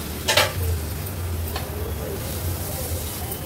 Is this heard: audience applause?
no